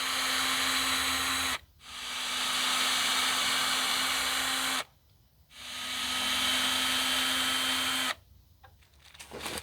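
A power drill backing screws out of a wooden frame for solar panels, whining loudly in three long bursts separated by brief pauses.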